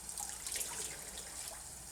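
Warm tap water runs steadily into a container, a close, even hiss and splash lasting a couple of seconds with no talk.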